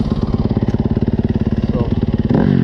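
A Yamaha YZ250 dirt bike engine runs with a loud, rapid, even thumping pulse close by, then picks up sharply into a denser, louder burst at the end.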